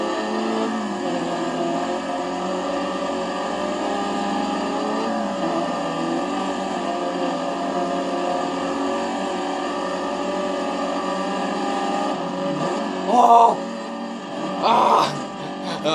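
Rally cars racing in the video game Dirt 3, a steady droning engine note held for about twelve seconds, followed by a couple of louder revving bursts near the end.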